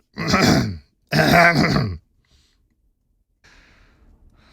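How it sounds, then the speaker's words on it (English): Two loud, close throat-clearing rasps in quick succession, followed by near silence and faint background rustle. "I need to clear my throat"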